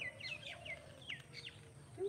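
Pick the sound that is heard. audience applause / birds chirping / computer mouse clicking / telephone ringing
birds chirping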